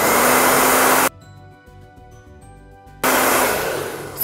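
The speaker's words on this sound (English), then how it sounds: "And then get my dryer." A hair dryer blows loudly for about a second, cuts off to near silence, then roars back on for the final second.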